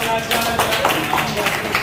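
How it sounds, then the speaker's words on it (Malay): A classroom claps for students after a short acted scene: dense, uneven hand clapping from a group, with steady room noise and some voices mixed in. "Okey, tepuk tangan untuk pelajar"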